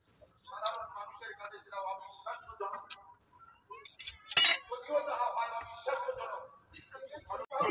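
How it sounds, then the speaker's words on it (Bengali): Dishes of rice, dal, mashed potato with mustard and greens being arranged on an offering plate, with scattered light clinks and clatters of utensils and plates, some louder knocks, while someone talks throughout. "এখন ভোগের থালাটা সাজিয়ে নেব।"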